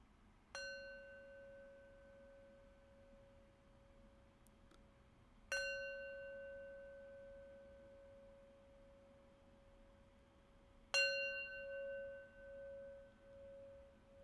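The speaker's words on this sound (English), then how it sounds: "And now we'll close our practice with 3 rings of the bell." A meditation bell is struck three times, roughly five seconds apart, each strike a clear sustained tone that rings and slowly fades over a faint background hiss.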